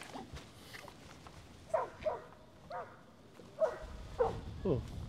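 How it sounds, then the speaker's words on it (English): A dog barks from across the water at a fishing spot, a few short yips and woofs spaced irregularly, fairly distant and soft, over quiet outdoor background. "Oh, there's a dog over there."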